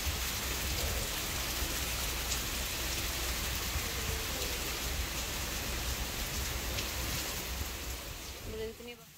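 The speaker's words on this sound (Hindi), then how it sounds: "बारिश को देखने का एक अलग ही आनंद आ जाता है" Steady rain falling in a dense, continuous hiss of drops on surfaces, easing slightly at the very end.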